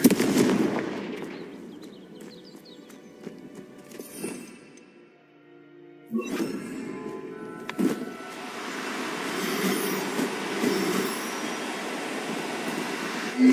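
Fiery Confringo spell blasts crack and burst in the Hogwarts Legacy game, a few sharp explosive hits over a steady rumbling combat bed, with a quiet gap midway before the noise resumes.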